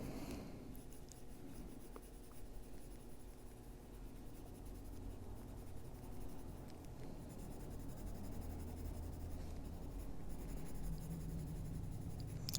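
Colored pencils scratch steadily across paper during a frog coloring session, a soft continuous rasp of close strokes with no talk.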